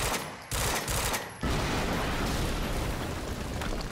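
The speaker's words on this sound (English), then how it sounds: "HQ, we just heard an explosion near the harvesting perimeter." A dense, roaring explosion in the action game Quantum Break, a loud sustained blast with two sharp onsets early on that rolls into continuous rumbling noise filling the rest of the moment.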